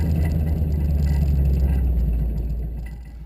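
Vehicle straining up an unbroken snowy hill in first gear during off-road driving, a steady loud engine drone and low rumble that holds then slowly fades as it loses momentum; no talking.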